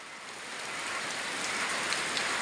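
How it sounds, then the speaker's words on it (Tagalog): Heavy rain driven by strong wind over rice fields ready for harvest, a dense steady hiss that swells slightly, with no voices. "dahil malakas ang hangin at saka ulan"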